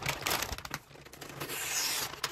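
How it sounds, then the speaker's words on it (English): Crinkling and rustling of crumpled Christmas wrapping paper in irregular bursts, close by, with a few sharper crackles and no talking. "These crumply papers don't slide as nicely with the scissors."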